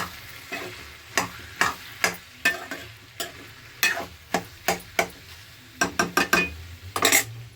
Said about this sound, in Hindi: नाना तो मेरी ये बन रही है लिंगड़े की सब्जी